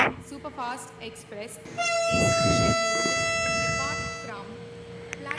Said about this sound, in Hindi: Horn they they.